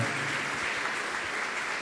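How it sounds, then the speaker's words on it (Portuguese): A church audience claps together in a steady, soft, continuous patter heard from a distance, with no voices rising above it. "Pode aplaudir a festa ou o Palmeiras, você fica à vontade."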